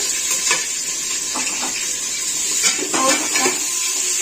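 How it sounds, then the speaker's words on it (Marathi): Onions frying in a cumin and mustard seed tempering for a veg paneer rice, a steady close sizzle with occasional clinks of a utensil stirring in the pan. "आता हे कांदे आपल्याला थोडेसे तळून घ्यायचे"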